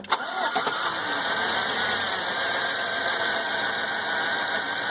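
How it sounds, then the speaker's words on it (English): A 2007 Chevy Avalanche truck engine, with a cylinder number one misfire, cranks briefly and catches, then settles into a steady, close idle with a constant mechanical hum and whine. "So we're going to go ahead and start the truck and see what we got for numbers here"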